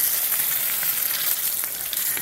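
Bacon fries in a cowboy wok outdoors, producing a dense, steady, close sizzle and crackle that holds evenly throughout.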